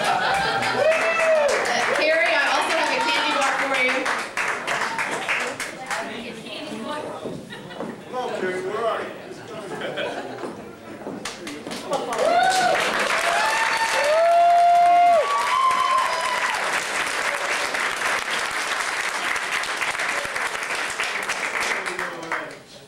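An audience at a film awards event bursts into applause for the cast. The clapping and cheering come in waves, and a speaker's voice talks over them and between them.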